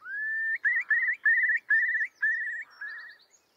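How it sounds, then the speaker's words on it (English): A curlew gives a run of plaintive whistles: one long rising note, then about six rippling, repeated calls in quick succession, clear and alone against silence. "curlew's plaintive cries."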